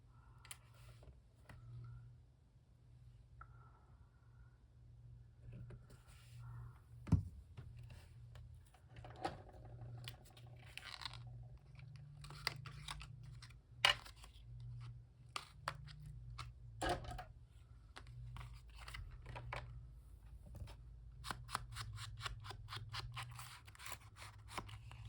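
Scissors snip through a paper tag made from Monopoly money, giving a string of short crisp cuts and clicks over a steady low hum, close and fairly quiet.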